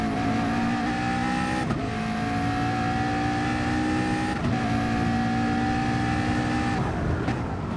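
Race car engines roar steadily in an online racing game on the Nürburgring GP circuit, including a McLaren, with sustained loud engine drone and whining pitch shifts at gear changes, no talking.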